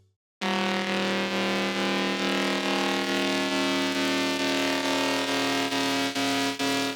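A loud, sustained buzzy synthesizer tone with a harsh saw-wave timbre, holding steady like a siren after a brief silence.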